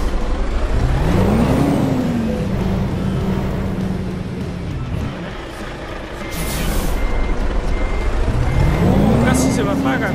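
A Volvo VNL 670 tractor-trailer hauling 16 tonnes of watermelons releases a sharp, loud burst of air-brake hiss amid its rumbling diesel engine, with repeated reversing beeps and someone talking nearby.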